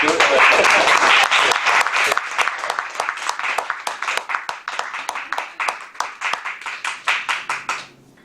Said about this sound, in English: extra round of applause